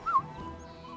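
A dog in a video game gives a single short, high yip or whimper at the very start, then only a faint, quiet game background remains.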